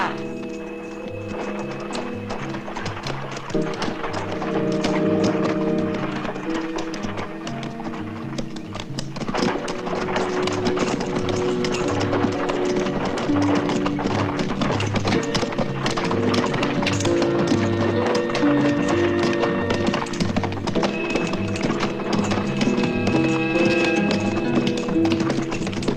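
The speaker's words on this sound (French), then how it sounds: "amène la charrette et les chevaux près du puits" Horses pulling a cart, hooves clip-clopping in a steady rhythm close by, mixed with shouts and a dramatic music score running underneath throughout.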